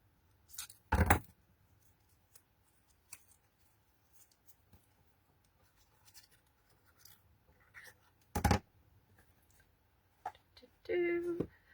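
Scissors cut paper offcuts into corner pieces, with two sharp, loud snips several seconds apart and faint rustling and handling noise between them.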